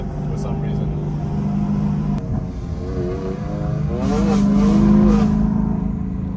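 Straight-piped BMW M3s on an evening lap, engine note droning and shifting pitch as the cars accelerate, with a voice talking over it.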